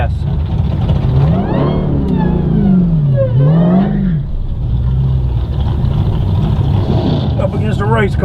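A race car accelerates down a drag strip on a pass, its engine rising in repeated revving sweeps through the gears, loud and near, with people talking over it.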